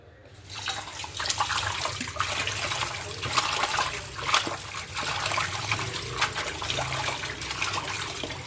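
Freshly picked herb leaves are stirred and washed by hand in water, a continuous close splashing and trickling with rhythmic sloshes as the leaves are swirled.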